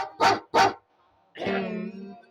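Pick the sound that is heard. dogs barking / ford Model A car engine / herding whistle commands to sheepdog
dogs barking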